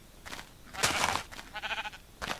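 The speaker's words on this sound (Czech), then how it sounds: "Ovečky, tak já zase se snad" Several short sheep bleats from a blocky sandbox video game set in a rock shelter, three or four separate calls spaced over a couple of seconds, moderately loud and close with no talking over them.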